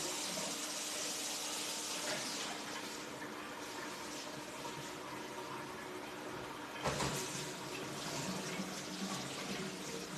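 Cold tap water runs steadily into a sink, a continuous hissing splash with a brief louder gush partway through.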